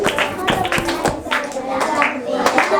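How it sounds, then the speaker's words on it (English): A small group of second-grade pupils claps in a classroom, with several uneven bursts of hand claps, a teacher's voice talking between and over them. "Clap for him."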